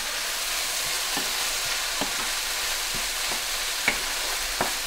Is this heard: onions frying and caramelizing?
yes